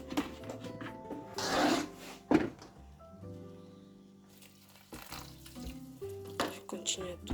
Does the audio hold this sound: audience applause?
no